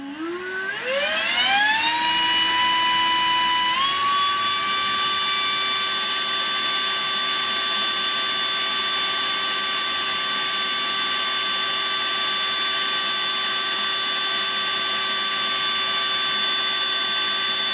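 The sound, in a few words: Makita cordless standalone leaf blower running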